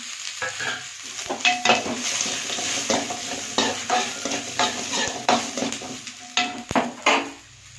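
Dried red chillies, cumin, pepper and coriander frying in a pan with onions for kovakeerai chutney, a steady sizzle broken by repeated clinks and scrapes of a spoon stirring against the pan.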